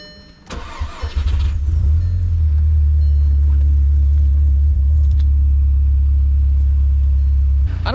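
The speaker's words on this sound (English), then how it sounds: "All right, ready for the cold start?" A car engine cold-starts with a brief cranking whir, then catches into a loud, deep, steady idle rumble close by that holds for several seconds.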